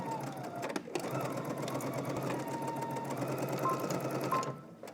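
Close and loud, a home sewing machine runs steadily while backstitching a seam on a DVF V2000 wrap dress, its motor whirring continuously with a faint higher whine, briefly pausing near one second before resuming.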